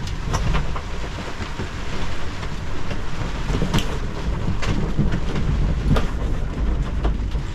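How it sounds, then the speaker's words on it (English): Gusty wind on a sailboat far offshore in heavy weather, a loud steady roar and rush of air with water noise and scattered knocks and rattles from the boat, nobody speaking. "There's a bit of wind in it now. Gusty."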